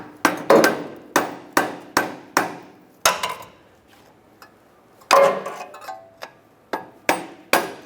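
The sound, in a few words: hammer tapping a punch on axle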